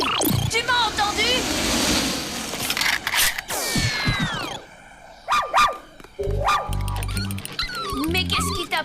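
A cartoon dog yips, whimpers and barks in short excited bursts, with cartoon sound effects and people speaking around it.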